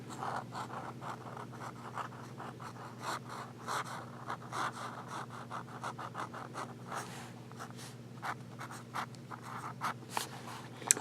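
A fountain pen with an extra fine nib writes on paper, close and quiet, with rapid irregular scratchy strokes and short pauses between them over a faint low background hum.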